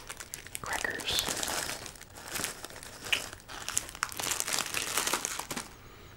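Cracker packaging crinkled and torn open up close, a dense run of crisp plastic crackles and rustles lasting several seconds, with soft whispering alongside.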